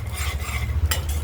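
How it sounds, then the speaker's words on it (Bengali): Peanuts fry and are stirred in a pan, with a soft scraping rattle and light crackle running through a short, close burst. "বাদামটি আগে ভেজে নিচ্ছি"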